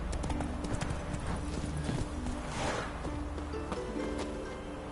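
The horse Roach gallops in The Witcher 3: Wild Hunt, with rapid rhythmic hoofbeats thudding continuously at close range, backed by a rushing wind-like bed and faint rustling.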